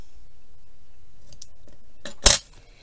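Scissors cutting washi tape for a paper craft, a quiet snip or two followed by one sharp, louder cut near the end, close up and isolated.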